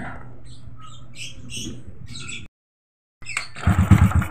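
A Honda Wave motorcycle engine, worked on at home after a stator replacement with the choke cover removed, catches after a short silence and runs loud and close in rough pulsing bursts, preceded by chirpy squeaks.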